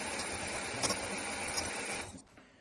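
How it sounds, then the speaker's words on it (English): Sugar being whisked into Swiss roll batter makes a steady, close, whirring hum with a faint rhythmic rattle. It runs evenly, then winds down and stops just after two seconds. "I add a second part of the sugar, and we again start whisking for a couple of minutes"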